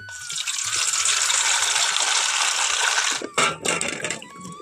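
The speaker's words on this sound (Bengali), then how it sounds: "এখন প্রথমেই আমলকিগুলো ধুয়ে পরিষ্কার করে নেব" Water from a tap gushes steadily while amla (Indian gooseberries) are washed, loud and close, then breaks into a few uneven splashes and interruptions near the end.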